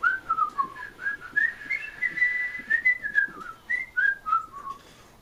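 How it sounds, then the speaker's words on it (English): A person whistles a lively, wandering melody alone, with short bright notes and quick slides rising and falling at close range. "Can you whistle? Yes, I can."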